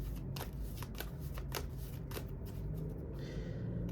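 Quiet riffle of tarot cards being shuffled by hand during a reading, a close run of soft rapid flicks and taps lasting a few seconds with no talking.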